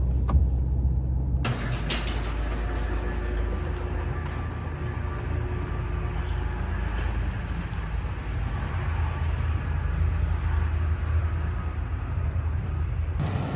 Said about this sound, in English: Hear my throwout bearing.